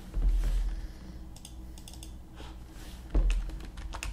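Fingers type on a computer keyboard during pixel-art work: scattered light key taps with two louder clusters of clacks at the start and again later, close to the microphone.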